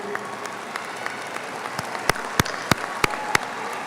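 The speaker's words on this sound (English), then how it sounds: "Let's give our students a big round of applause." Audience at a 2024 high school graduation ceremony applauding students: a soft, steady bed of crowd clapping with several sharp, louder individual claps standing out near the microphone toward the end.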